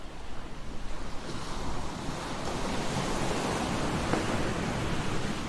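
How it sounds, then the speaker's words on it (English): Wash of ocean waves and surf laid into a calm synthesizer track, a steady broad rush that swells slightly in the first seconds, then holds an even, enveloping level throughout, with no voices. "Get that water sound."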